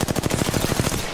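Rapid automatic gunfire from a weapon in the Apex Legends battle royale game, a steady stream of loud, evenly spaced shots filling the whole moment with no talk over it.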